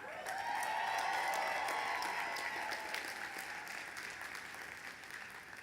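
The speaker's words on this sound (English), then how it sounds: "Give yourself a round of applause" Meeting attendees at a coffee mixer event applaud themselves, a full burst of clapping that peaks early and gradually thins out, with a faint tonal hum beneath it.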